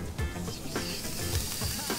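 A person imitates sizzling steak with their voice, making a hissing, crackling spatter in short bursts.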